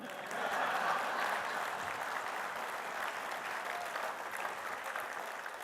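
Conference audience applause at a 2024 summit after the California Community Colleges chancellor's welcome speech, a steady, fairly even roar of many hands sustained for several seconds without talk over it.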